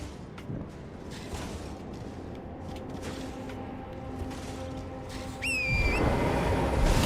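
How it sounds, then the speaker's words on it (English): A sharp rising whistle rings out near the end in the Elden Ring video game, over a steady rumbling game ambience with a low creaking hum and then a louder roar. "Can't hear me whistle right behind you?"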